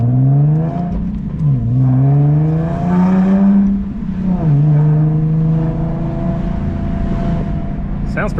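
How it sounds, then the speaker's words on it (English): A drift-built daily-driver car with a homemade exhaust revs up and down several times, a loud, close engine drone rising and dipping in pitch, with brief talk underneath. "Not bad for a homemade exhaust."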